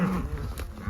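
Cattle on a farm in southwest Kansas, calves and cows penned behind a fence, give a low, drawn-out moo that fills the whole second, heard close and alone with no voices.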